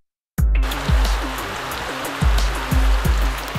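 A good-sized river flows along a creek bed outdoors, a sudden onset of steady rushing, gurgling water that stays loud and close to the end.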